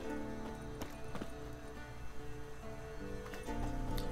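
Hooves clip-clop at a walking pace, fairly near, amid game music and ambient sound in The Witcher 3: Wild Hunt, with a horse's whinny briefly mixed in.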